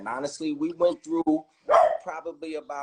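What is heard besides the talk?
pet dog barking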